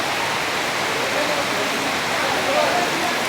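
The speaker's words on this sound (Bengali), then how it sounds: "খুব জোর বৃষ্টি হচ্ছে বাপ।" Heavy rain pours down at a Shiva temple in Silchar, a dense, loud, unbroken roar of falling water close by with no letup.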